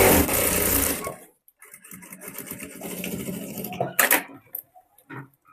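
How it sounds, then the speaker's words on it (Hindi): A tailor's sewing machine stitching a salwar waistband belt, a rapid buzzing run of stitching followed by shorter stop-start bursts and quiet pauses, close and fairly soft. "अब एक सिलाई मैं सीधे साइड लगाऊंगी बेल्ट की तरफ।"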